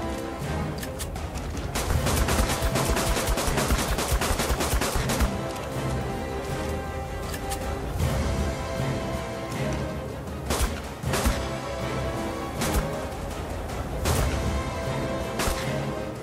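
Dense, loud gunfire rattles almost continuously as a creature, a Megapithecus boss, is shot in ARK: Survival Evolved. Sharp blasts and crashing impacts layer over a constant din of battle noise, with no voices over it.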